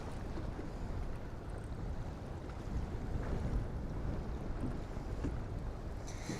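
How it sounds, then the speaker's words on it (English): Strong wind gusting over a lake while fishing, a rough broadband rush of microphone buffeting that swells and eases, with water movement underneath and no speech. "way too windy"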